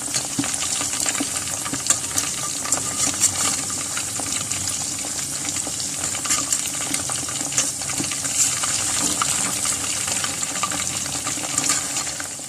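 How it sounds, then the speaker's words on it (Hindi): Chicken pieces for Schezwan chilli chicken fry in a pan with a continuous close sizzle and crackle, with scattered pops and stirring scrapes throughout. "चिकन इसके अंदर फ्राई हो चुका है।"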